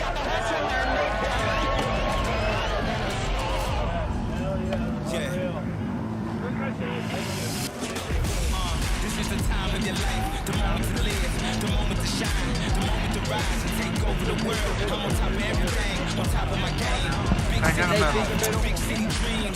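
At the Dew Tour Copper 2023 men's snowboard streetstyle final, a dense outdoor crowd roars in a steady, continuous wash of cheering and noise for the finalists, loud and sustained throughout.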